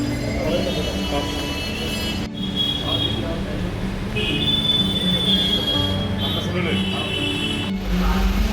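The Saraighat Express rolls along the rails with a steady loud rumble, metallic squeals and high whines rising and fading over it, heard from inside the moving train.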